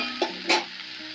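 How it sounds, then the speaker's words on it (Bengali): Onion stalks sizzle in a little oil in a pan with a steady hiss, broken by two quick stirring scrapes close up. "আর অল্প তেলে ভাজা"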